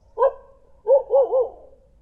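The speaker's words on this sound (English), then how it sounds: "how many dogs are there here?" A few dog barks, one single then a quick cluster of three, fairly close and loud, with quiet gaps between.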